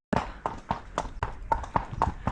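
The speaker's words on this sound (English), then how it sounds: "I don't know whether you saw the horses coming past." Horses walk past on a race day, hooves clip-clopping in a steady, fairly close rhythm of about eight distinct hoofbeats.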